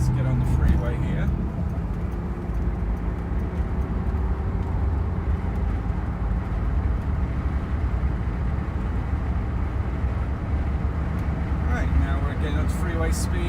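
A 1979 Rolls Royce Silver Shadow II with twin SU carburetors cruises onto a freeway, a steady broadband road and engine rumble with wind noise, and someone talks briefly at the start and end.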